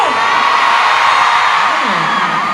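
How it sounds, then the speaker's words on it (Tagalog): A large concert crowd at a show screams and cheers in one continuous high-pitched roar that stays loud and unbroken from start to finish. "Parang grabe kasi yung mga sigawan ng energy."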